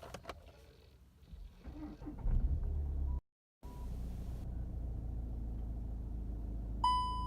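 A Skoda Octavia engine starts after a key fob battery change: a brief crank, then the engine catches and settles into a low steady idle heard close up inside the car, with a chime near the end.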